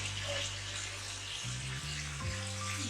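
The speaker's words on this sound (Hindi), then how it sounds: "थोड़ा सा चनों का जो पानी था वो मैंने साथ ही ऐड कर दिया" Chickpea cooking water poured into a pot of bhaji with boiled potatoes and chickpeas, a close steady splashing pour over low bubbling and sizzling, with shifting tones as the stream changes, no voices.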